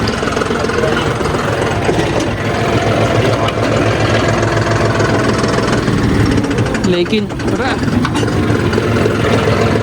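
A 4x4 tractor churns through a muddy, waterlogged field, its engine running loud and close with a steady rough clatter that stays constant throughout.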